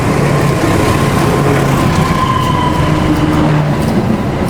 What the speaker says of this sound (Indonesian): ini ada kereta api melintas langsung